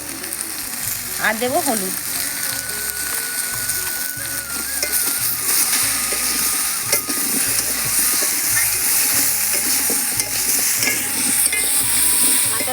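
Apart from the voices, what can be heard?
frying spices with salt and turmeric in a pan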